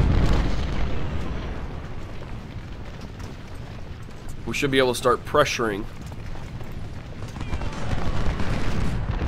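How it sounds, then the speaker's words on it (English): Cannon canister shot and rifle gunfire in the Ultimate General: Civil War battle game, a steady rumble of distant artillery and musketry running throughout, with someone talking over the middle of it. "Scales should be able to get some nice canister shot action going in there."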